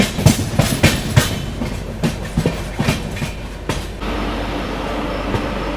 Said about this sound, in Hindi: चलो ट्रेन अभी एंटर कर रही है अपनी झांसी पे, ऑलमोस्ट रेलवे स्टेशन में पहुंच ही गई गाड़ी।